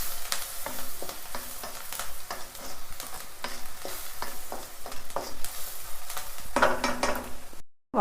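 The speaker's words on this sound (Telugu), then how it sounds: "తగినంత పసుపు వేసుకొని మంచిగా వేయించుకోవాలి" Chicken pieces fry in a hot pan with salt and turmeric for a Telugu chicken fry, a continuous sizzle broken by repeated scraping strokes of a spoon stirring the pan, ending abruptly.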